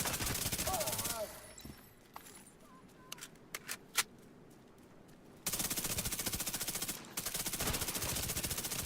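A deployed turret in the video game The Division 2 fires long rapid automatic bursts, loud and close, after a quieter stretch of scattered clicks and single shots, with a brief break between bursts.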